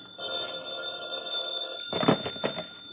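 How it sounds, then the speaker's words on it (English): An old-style telephone bell rings steadily in a quiet room, a sustained bright ringing tone that cuts off as a receiver is fumbled and handled with a few brief knocks. "The phone woke me up."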